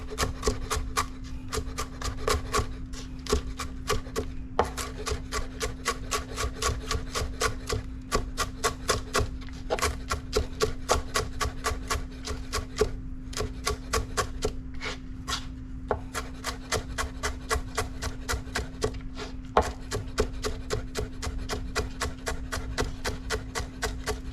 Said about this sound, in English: run the knife through it, just to make sure there are no large chunks in here